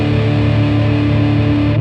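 Electric guitar played through an OCD germanium clone pedal on its low-pass setting with distortion at three o'clock, giving a loud, sustained, hairy crunch of held chords that rings steadily and cuts off at the end.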